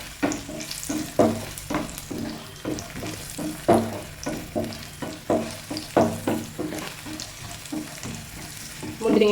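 Raisins and cashew nuts fry in ghee in a pan for tender coconut payasam, a soft sizzle under regular scraping stir strokes, close and rhythmic throughout.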